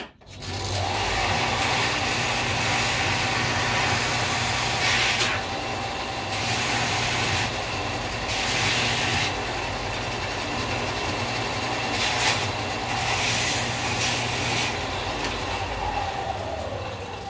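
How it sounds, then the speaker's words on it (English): A belt sander trims small wooden pieces for a model diorama, a loud continuous abrasive roar with rough grinding surges as the wood is pressed against the belt. "So I'm going to go back to the belt sander and just cut these off."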